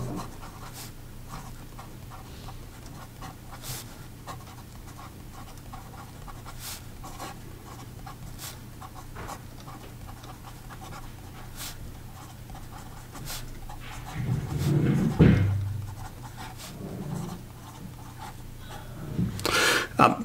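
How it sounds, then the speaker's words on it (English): A Visconti fountain pen with a medium nib scratches across paper in a steady faint rub of strokes, with a few soft taps and a louder rustle near the middle, close and quiet with no talking. "here we go with the writing sample"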